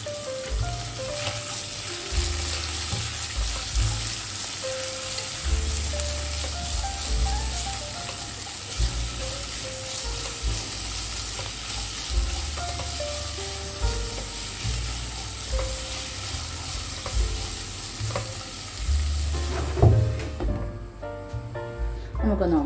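Sliced onion fries with a little salt in a pan for Kerala-style potato poori and kadala curry, sizzling steadily up close with occasional stirring scrapes and a brief clatter near the end, no one talking.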